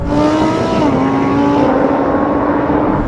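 A Lamborghini, an Audi R8 and a Nissan GTR accelerating hard side by side in a drag race, a loud sustained engine roar with rising then shifting pitch as the cars pull through the gears, heard close from inside a car.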